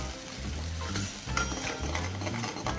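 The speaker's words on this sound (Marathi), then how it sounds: "जोपर्यंत तेल सुटणार नाही तोपर्यंत भाज्या आपल्याला चमच्याने किंवा उलताण्याने ढवळत राहाव्या लागणार आहेत" A spoon stirs chopped country coriander through hot oil in a pan for a chole dish, producing a close, continuous scraping and gentle sizzle with no one talking.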